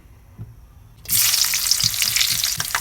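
Dried chillies and cardamom hitting hot oil in a wok with a sudden loud, hissing sizzle partway through that keeps crackling steadily, over a few soft low thumps.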